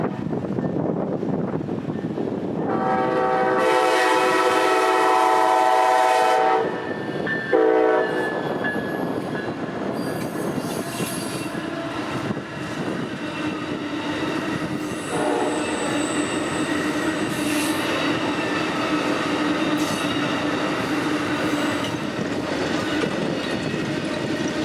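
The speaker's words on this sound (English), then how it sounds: "as Amtrak 52, the northbound auto train, rolls through" A long Amtrak Auto Train rumbles steadily past at close range, a loud horn blast sounding early on over continuous wheel and car noise.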